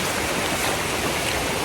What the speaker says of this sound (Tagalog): Umaagos po yung tubig.